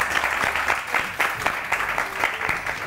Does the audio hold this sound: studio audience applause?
yes